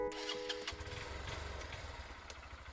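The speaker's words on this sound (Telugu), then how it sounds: "అదిగో బైక్ సౌండ్ వినిపిస్తుంది" Motorcycle engine running steadily at low pitch, close by, after a brief start-up burst, with no talk over it.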